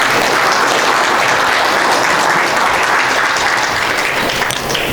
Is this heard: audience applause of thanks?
yes